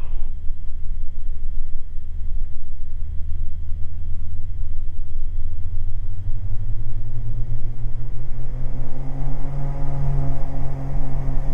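Twin piston engines of a Beechcraft G58 Baron coming up to takeoff power on the runway, a loud steady drone heard from the cabin, its pitch climbing in the last few seconds.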